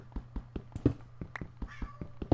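A house cat meows indoors, faint and close, with short calls spread over a couple of seconds alongside soft tapping and clicking sounds.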